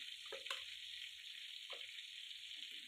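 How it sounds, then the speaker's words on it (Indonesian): A steady, close sizzle of spice paste frying in a wok, with a few soft scraping stirs; no voices. "kita tuang bumbunya ke dalam kuali panci apa wajan dah tuh"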